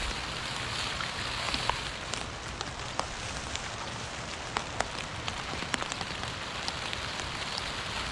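Steady rain falls close by on surfaces, a dense even patter dotted with individual louder drops, with no voices.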